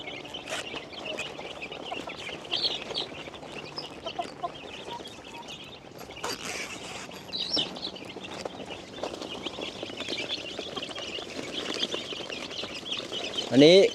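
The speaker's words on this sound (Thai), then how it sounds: "กับบรรยากาศลูกไก่ตัวเล็ก" Small chicks peep and cluck continuously inside a coop, a dense, fairly close twittering bed of calls with a few louder chirps near the end, occasional rustling, and someone speaking at moments.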